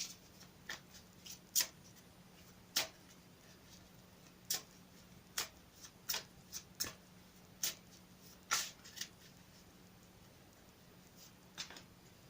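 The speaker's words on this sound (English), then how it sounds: "I'll give them another quick shuffle for you on camera." Soft, scattered snaps and flicks of tarot cards being handled and shuffled, quiet and close, with irregular pauses between them.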